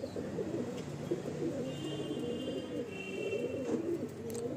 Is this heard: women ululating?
no